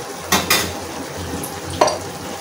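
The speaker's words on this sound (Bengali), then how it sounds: "একটু নেড়ে নিলাম, মিক্সড করে না নিলে খেতে ভালো লাগবে না।" Kakila fish chachhari curry from the Padma River is stirred in a pan. A few sharp spoon scrapes and clinks stand out over a faint, steady sizzle.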